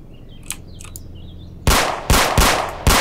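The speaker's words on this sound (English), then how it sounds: "They're shooting" Rapid loud gunfire from the police video game Emergency Hamburg erupts in four close bursts, following a quiet stretch of birds chirping in the background.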